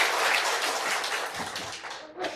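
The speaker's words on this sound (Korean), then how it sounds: "박수 한번 크게." An indoor audience at a live political speech claps loudly and steadily for a couple of seconds, then the applause thins and fades.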